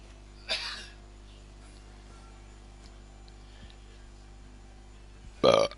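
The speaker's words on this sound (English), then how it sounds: "That's a Desperado's burp right there." Two short belches after drinking Desperados beer, a brief one near the start and a louder, fuller one at the end, close to the microphone against a quiet room.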